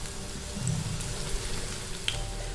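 Cauliflower 65 pieces frying in hot oil give a steady, low sizzle with faint crackles, continuous and fairly quiet throughout.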